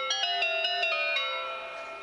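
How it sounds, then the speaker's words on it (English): Bright, bell-like steel drum tones from a synthesizer keyboard strike in a quick run of about six notes, then ring out and fade, clear and close with no talk. "So on the steel drum"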